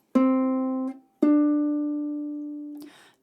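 Two plucked string notes, C then D a major second higher, sound one after another, the second left to ring out, ending with a soft muted scrape.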